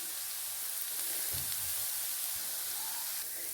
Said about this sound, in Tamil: இது நல்லாவே வந்து வதங்கட்டும்.